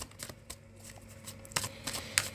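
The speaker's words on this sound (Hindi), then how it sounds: "Last shuffle." Tarot cards shuffled by hand in a few quick riffling bursts, close and fairly soft, with short pauses between them.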